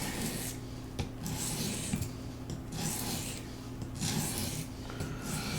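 A knife blade drawn across the stone of an Apex Edge Pro sharpener, repeated rasping strokes about once a second, close and clear, each gritty rub followed by a brief pause, with no talking.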